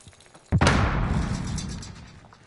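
A frag grenade goes off in Call of Duty Warzone on PS4: one sudden, heavy, close blast that rolls into a long rumbling decay fading over about two seconds.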